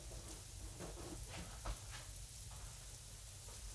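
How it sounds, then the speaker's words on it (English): Food sizzles steadily in a hot pan with a faint crackle and occasional pop, quiet and continuous with no voices. "You can hear the sizzle, the pop."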